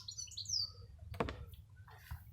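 Birds chirp outdoors near a camper van, a few high tweets early on followed by a brief thud and soft background rumble.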